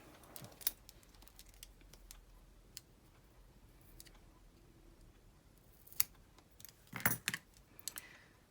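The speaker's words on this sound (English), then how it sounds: "And then I gotta cut this one in half." Scissors cutting a piece of card stock in half while making a Christmas slimline shaker card, giving a few crisp snips and slices spread across a quiet tabletop, no talking.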